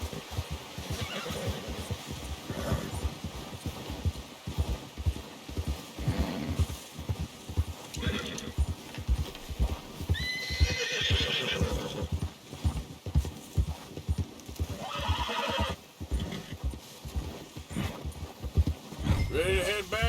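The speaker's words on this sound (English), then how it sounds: "Get a hold of that horse, Arthur." Horse hooves clip-clopping at a steady gallop in Red Dead Redemption 2, with whinnies and neighs rising over the rhythmic beats, close and loud, while a voice speaks intermittently over the riding.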